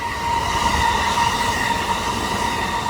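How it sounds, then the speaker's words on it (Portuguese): An express train passes by in Japan, a loud, steady rushing roar of wheels and rails with a high metallic whine running continuously throughout. "Olha o trem vindo aí."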